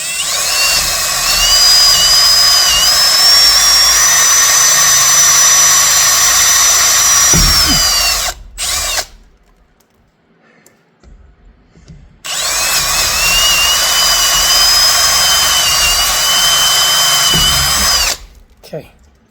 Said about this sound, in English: So I'll go ahead and drill these through.